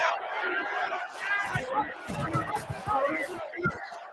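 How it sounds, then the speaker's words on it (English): Simulated stadium crowd in the video game NCAA Football 14 on a short-yardage play, a dense roaring babble of cheering fans throughout, with a commentator's voice over it. "The crowd really making it difficult."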